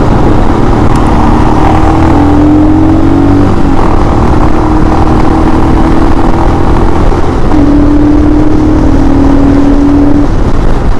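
Engine of a 2022 Royal Enfield Himalayan motorcycle running while riding, a loud steady drone with gentle rises in pitch as it accelerates, heavily mixed with wind rush.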